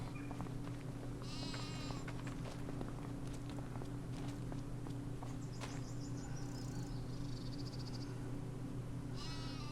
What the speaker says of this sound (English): sheep over here.